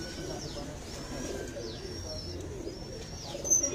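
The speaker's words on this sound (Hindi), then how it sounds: "बड़ी शानदार कबूतरी लालपुरी" A Lalpari pigeon coos and calls softly amid other bird chirps, fairly faint and steady against a quiet background, with a person talking nearby.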